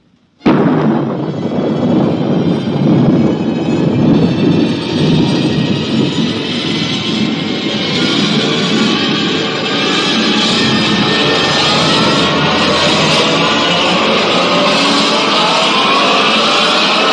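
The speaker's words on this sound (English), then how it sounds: "Countdown for blast off." A rocket blast-off effect from an old-time radio science-fiction drama bursts in abruptly and grows into a loud, sustained roar that rumbles on without a break for over fifteen seconds.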